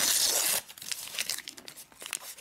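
A Topps Bundesliga 2013/14 sticker packet is ripped open with a loud, sharp tear, then the foil wrapper crinkles and rustles close up.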